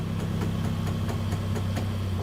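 A Nissan 240SX with a dual-cam KA engine swap idles close by in a steady, low throbbing rumble with an even pulsing rhythm.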